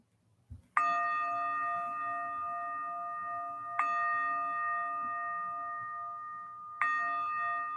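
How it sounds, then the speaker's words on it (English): Three chimes of a meditation bell ring out, each struck clearly and left to sustain with a long, bright, pure tone that slowly fades, in a quiet room with no talking. "We'll begin and end our practice with 3 chimes of the bell."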